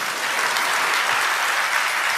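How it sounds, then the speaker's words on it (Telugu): A church congregation claps together in steady, dense applause throughout, even and fairly loud with no distinct voices standing out. "చప్పట్లు కూడా దేవుని మహింపరచండి"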